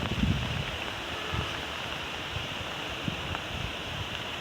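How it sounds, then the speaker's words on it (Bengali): Strong wind blowing across an open rural village area beside rice fields in Bangladesh, a continuous broadband rush with faint rustling, moderately loud and alone. "প্রচণ্ড বাতাস"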